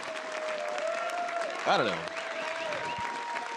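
Crowd applauding at a Hearthstone esports event, the 2018 HCT Summer Championship, a steady wash of clapping under a commentator's voice, with a brief louder swell partway through.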